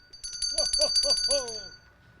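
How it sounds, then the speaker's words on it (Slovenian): Santa Claus rings a small hand bell to call people over, a quick bright jingle lasting about a second and a half, close and clear, with faint voice-like sounds underneath. "Poklical jih je z zvončkom."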